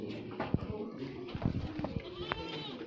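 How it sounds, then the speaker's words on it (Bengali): An old goat with zinc deficiency on a goat and pigeon farm bleats in short bursts amid overlapping voices and background farm chatter. "অনেক পুরাতন ছাগল এটা"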